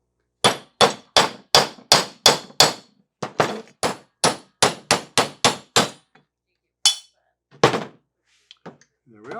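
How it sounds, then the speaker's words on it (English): A hammer strikes a bushing driver into a Crosley water pump in a rapid series of sharp metallic clangs, about sixteen loud close blows in quick rhythm, then a pause and a couple of final hits. "This time I'm going to use a bushing driver."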